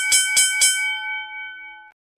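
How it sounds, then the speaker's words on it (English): A bell is struck three times in quick succession, each bright ring overlapping the next, then a clear sustained tone lingers and fades before cutting off. "I've got that beautiful bell"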